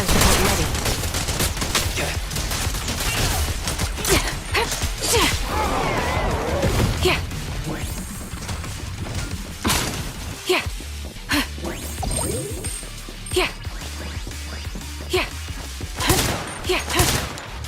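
Rapid gunfire and sharp impacts from fire support in the video game Zenless Zone Zero, dense bursts mixed with whooshes and combat effects, with voices talking over the action.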